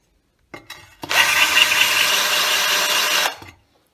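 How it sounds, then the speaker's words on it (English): A carbide holesaw bores into ceramic tile, starting with a brief burst and then settling into a loud, steady, grinding whine for about two seconds before stopping abruptly. "Now I need to be careful when I'm drilling because whenever this bit goes through, it's liable to jump this distance here"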